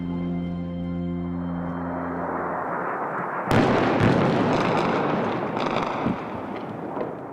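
Airstrikes hitting a darkened city at night during the war against IS: a loud explosion booms out of a low rumble, then several more distant thuds and blasts roll over a continuous droning background.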